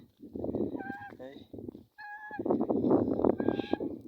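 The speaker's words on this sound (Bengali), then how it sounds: "রাজহাঁস একটা 4-5 কেজি কি ওজন হবে আশা করতেছি।" A large domestic goose in a rural village setting honks in a few short, nasal bursts separated by brief pauses, fairly close, with faint voices mixed in.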